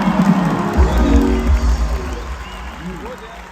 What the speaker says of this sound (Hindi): तालियां भी खुल के हो जाए